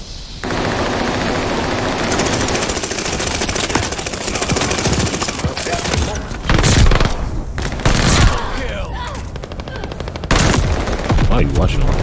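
Call of Duty Vanguard gameplay in which a PPSh submachine gun fires from the hip in long, rapid, loud bursts, with short pauses between strings of shots and game effects mixed in.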